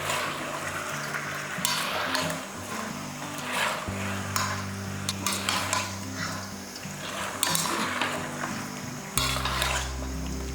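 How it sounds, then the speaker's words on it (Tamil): Broiler chicken, about one and a half kilos and washed, sautés in a pan for a chicken gravy, with a soft steady sizzle under repeated clinks and scrapes of a utensil stirring against the metal. "பாருங்கள் இந்த மாதிரி நல்லா வதங்கிட்டு இருக்கும் போதே"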